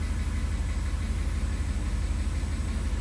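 A 1982 Mercedes 380SL engine idling steadily while warming up after a new timing chain tensioner was installed, a constant low rumble with even pulsing, close and unbroken.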